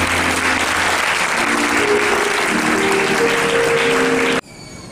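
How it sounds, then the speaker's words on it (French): A church congregation bursts into loud, sustained applause and cheering in praise, a dense crowd clapping close by that stops abruptly near the end. "On acclame très fort le Seigneur"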